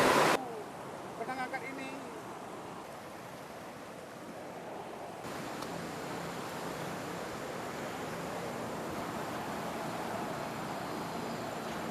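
Steady broadband rush of the Muara Karing waterfall in Merangin Geopark, Jambi, loud and continuous, with a brief noise burst at the start.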